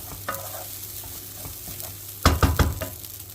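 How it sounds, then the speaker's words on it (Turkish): Bulgur toasts in a pan for pilaf, a faint dry sizzle at first, then a short burst of spoon scrapes and stirring near the end. "Bulgurlarımız kavrulmaya devam ediyor."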